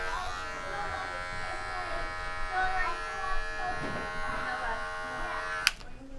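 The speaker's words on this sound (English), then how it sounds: "I'm kind of just using the heel of the clipper to keep me from creating lines in the haircut" An electric hair clipper buzzes steadily while cutting a shadow fade, its heel worked against the hair in a continuous close hum with a brief sharp click near the end.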